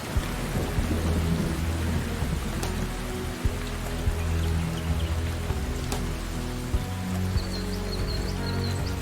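Steady rain falls across the whole stretch in a dense, even hiss, with low rumbles of thunder rolling underneath and a few sharper drips standing out. No voices.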